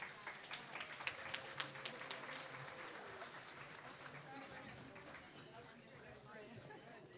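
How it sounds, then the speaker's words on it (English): Applause from an audience at a 2019 Hillsborough County neighborhood awards ceremony, steady broadband clapping with a few sharper claps early on, holding at moderate level throughout. "Let's give them a big round of applause."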